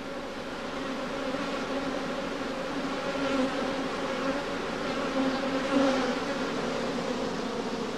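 A defensive honeybee colony buzzes steadily and loudly during hive handling with smoke, a dense, continuous drone of many bees swelling slightly at moments with no voices.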